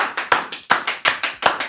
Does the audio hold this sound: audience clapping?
yes